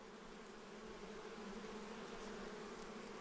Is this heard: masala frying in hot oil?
no